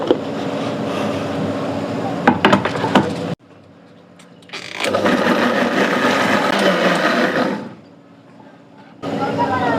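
Green chillies, garlic and cumin are ground dry in a kitchen mixer grinder, its motor roaring loud and steady in two bursts separated by quiet pauses, with clinks and knocks at the start.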